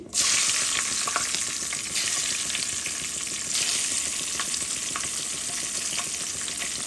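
Green chilies sizzling and frying in hot oil for a Bengali bitter melon dal, a steady close crackling hiss throughout with occasional small pops.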